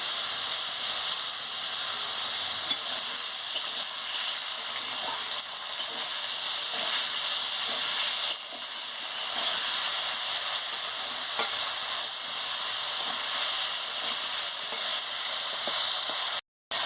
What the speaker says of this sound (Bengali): নুন দিয়ে আলুটাকে ভালো করে ভেজে নিচ্ছি